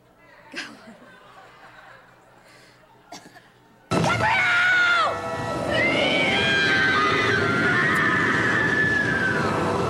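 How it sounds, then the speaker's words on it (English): Played from a TV show at a fan convention, a sudden loud scream bursts in after quiet murmuring and a few knocks, with sustained wavering shrieks over a noisy background. "Great scream."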